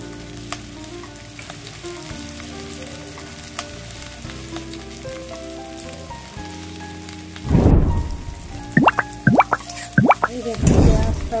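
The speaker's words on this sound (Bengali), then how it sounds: "পেঁয়াজটাও একটু লাল করে এবার ভেজে নেব।" Onions fry in white oil in a wok for restaurant-style gravy chowmein, giving a steady close sizzle. The sizzle swells louder toward the end, with a few sharp clatters and scrapes of stirring on top.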